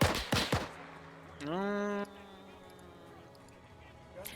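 A machine gun fires in the video game Arma 3: a few sharp, loud shots come in quick succession at the start, followed by a brief rising electronic tone and quiet ambience.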